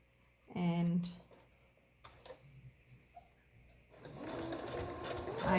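Sewing machine stitching back and forth over elastic at the corner of a cloth face mask, a short close burst followed by a longer steady run of stitching, with faint handling sounds in between.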